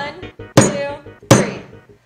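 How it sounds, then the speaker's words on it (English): A hammer strikes a Neon phone twice in a durability test, each blow a loud close impact with a ringing decay, separated by under a second amid quieter handling sounds. "I'm really nervous about the hammer."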